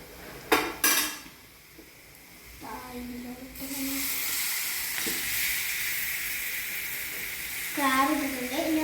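Crab dropped into onion masala frying in a pan: a couple of sharp pan clatters, then a steady loud sizzle and hiss that swells near the end, with brief muffled utensil sounds.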